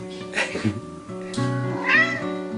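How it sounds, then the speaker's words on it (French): An Angora cat meows twice, a drawn-out plaintive cry followed by a second rising call, close and clear over soft background music. "2 ou 3 chats Angora ici."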